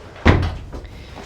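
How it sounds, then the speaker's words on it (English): A greenhouse door is pulled shut with one solid thump and a short rattle, followed by a fainter knock as it settles. "let's shut this door"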